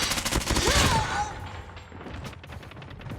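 Rapid AS VAL gunfire in a Call of Duty match, a fast close burst of shots that tails off into scattered, quieter fire in the distance.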